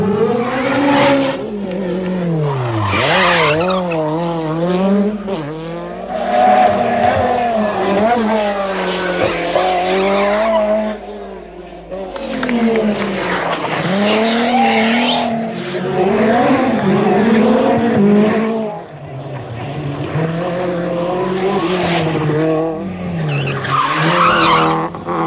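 A Peugeot 205 Turbo 16 rally car races on tarmac at the Tour de Corse, its engine revving hard and rising through gears in repeated sweeps, with tyres squealing through corners, loud and close.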